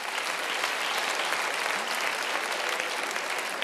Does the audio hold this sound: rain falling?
no